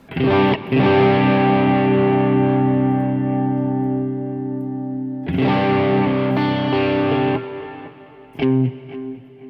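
A distorted electric guitar through a Quad Cortex amp modeler with a screamer-style overdrive rings out in sustained, heavily overdriven chords, one long chord fading slowly, then another struck and held, with a short final stab.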